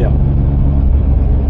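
Inside a 500-horsepower Porsche 911 heard from the passenger seat, a loud, close, deep engine rumble drones steadily over a short stretch, with a voice talking over it.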